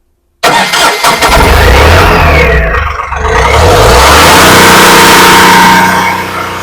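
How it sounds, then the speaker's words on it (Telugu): After a moment of silence, an Ashok Leyland Bada Dost i4 LS truck's engine cranks and fires up loudly close by, surges with a rev, dips briefly, then settles into a steady, rumbling idle that slowly fades. "అలాగే మీకు ఇంజన్ కూడా ఒకసారి స్టార్ట్ చేసి చూపిస్తాను."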